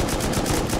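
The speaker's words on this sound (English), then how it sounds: "Swales, can you shoot into a wall right now?" Gunfire from the video game Rust hits a wall in a quick, rapid burst of several loud, evenly spaced shots close up.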